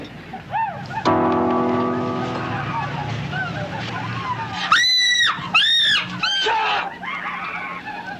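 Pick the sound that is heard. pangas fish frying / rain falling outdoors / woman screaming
woman screaming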